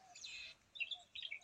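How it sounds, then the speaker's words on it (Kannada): Faint birds chirp on red-soil farmland with coconut trees and a nearby lake, in short high tweets spaced over a quiet background. "ಪಕ್ಷಿಗಳ ಶಬ್ದನೂ ಕೂಡ ನೀವು ಕೇಳ್ತಾ ಇದ್ದೀರಾ"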